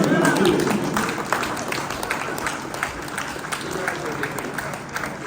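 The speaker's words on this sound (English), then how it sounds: "One more big round of applause, please." Audience applause at a university business competition, a dense steady wash of many hands clapping that fills the whole stretch with mixed crowd noise.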